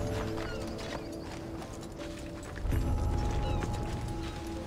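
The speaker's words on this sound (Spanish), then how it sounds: "Hay un caballo, ¿qué te parece?" Horse hooves clip-clop in the Assassin's Creed Odyssey video game, a steady rhythmic trot under game music and ambience that grows louder about halfway through.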